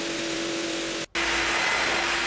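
A pool vacuum hoovering up debris, a loud steady whooshing motor drone that briefly cuts out and then resumes with a slightly brighter tone, no voices.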